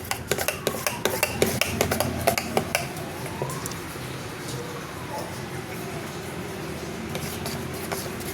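A spoon stirs biscuit-based cake batter in a bowl, rapidly clinking against the sides in a quick rhythm for a few seconds before settling into softer, duller mixing, with faint background noise.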